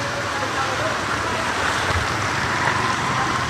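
Steady broadband rush of floodwater from fields mixed with gusting typhoon wind during Typhoon Kristine in Dasmariñas, Cavite, loud and continuous throughout.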